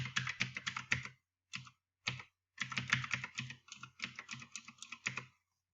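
Typing on a computer keyboard while entering a password, with quick bursts of close, crisp key clicks broken by short pauses and no one talking.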